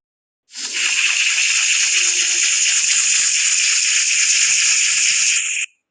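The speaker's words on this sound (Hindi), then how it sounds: "ये वाला पानी हमने चिकन के ऊपर डाल देना है" Roughly a glass of water poured from above onto chicken in a pressure cooker, making a steady, close pouring and splashing sound that runs unbroken for about five seconds, with no talk over it.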